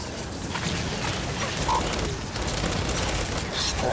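Turret gunfire in the video game Gears 5 rattles in dense, continuous bursts at loud, steady level across the whole stretch, with faint game effects and a voice mixed in.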